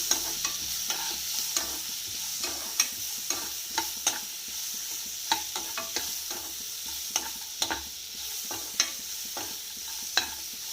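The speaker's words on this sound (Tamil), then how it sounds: "நெய்யில் வறுத்தோன்னா இன்னும் டேஸ்ட்டாக இருக்கும்" Jackfruit pieces fry in ghee in a pan for a jackfruit payasam, with a steady close sizzle broken by frequent sharp scrapes and clicks of stirring, and no talk.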